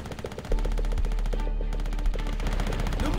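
Gunfire in the video game Call of Duty: World at War, Vendetta mission: loud, rapid machine-gun bursts that rattle almost continuously, with one brief break.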